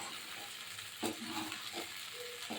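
Brinjal pieces frying in oil in a pan on medium heat, stirred with a spoon: a steady soft sizzle with a few scraping strokes, fairly quiet and close, no voices.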